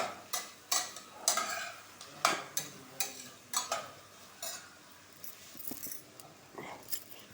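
Vegetables for pulao cook in a pan while a spoon scrapes and stirs in a quick irregular series of sharp metallic clinks, close and fairly soft, over a low background.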